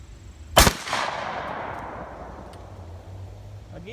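A single loud Remington 1100 shotgun blast cracks outdoors, followed by a trailing echo that fades over a couple of seconds.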